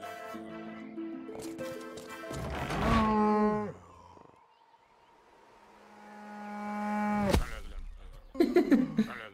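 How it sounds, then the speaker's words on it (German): A cow moos in a video game as it is loaded onto a trebuchet: two drawn-out, mournful lows, the second rising and bending down, followed by creaking mechanism noise near the end. "So. Verlade die Kuh auf die Blide."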